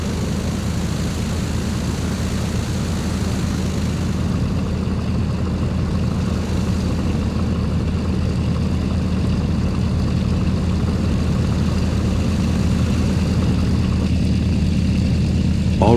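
A Douglas DC-3's propeller engines drone steadily and loudly while the airliner taxis to the runway in Flight Simulator X, a continuous low rumble holding level throughout without pause.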